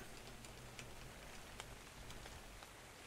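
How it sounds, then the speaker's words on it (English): Steady acid rain falls in the game ARK, a faint, continuous hiss of droplets with a few soft ticks on surfaces and no voices. "Acid rain slowing everything down here."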